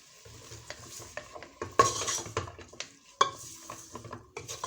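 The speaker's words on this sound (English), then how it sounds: "Give it a mix." A spoon clinks and scrapes in a pot of Nigerian ugu soup being stirred, giving a run of sharp metallic taps and knocks at close range with no one speaking.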